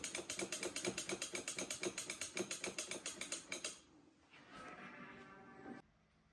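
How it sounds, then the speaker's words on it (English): Screws are backed out of an Arcade1up arcade cabinet with a hand screwdriver, giving a close, steady run of rapid ratcheting clicks for several seconds, followed by a softer scraping turn and then quiet. "For step one, we're going to remove the 1, 2, 3, 4 screws."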